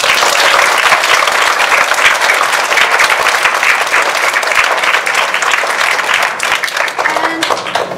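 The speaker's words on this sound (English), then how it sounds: "So let's take another round of applause" Parents in the audience of a fourth-grade school music show applaud, a dense, loud wash of clapping that holds steady for several seconds with no talk over it.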